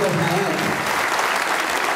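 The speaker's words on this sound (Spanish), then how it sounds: "un fuerte aplauso a Alejandro" Conference audience applauding a speaker at the end of a talk, a dense steady wash of clapping that fills the room, with a voice briefly audible at the start.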